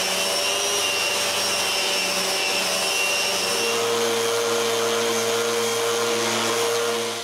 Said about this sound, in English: When it is, I sand the excess glue.